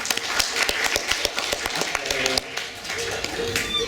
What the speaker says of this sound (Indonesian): boleh berikan tepuk tangannya teman-teman